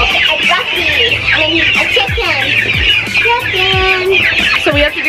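Chickens on a farm cluck and squawk close by in a busy, overlapping chorus, with a voice briefly speaking over them.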